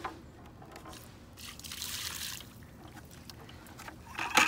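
Water poured into a fence post hole while setting gate posts outdoors: a soft, steady trickle and gurgle that swells in the middle and ends with a brighter splash, close and fairly quiet.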